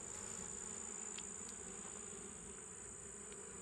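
A honeybee colony in a nuc hive hums in a steady, moderately faint buzz throughout, with a few brief soft ticks and no talking.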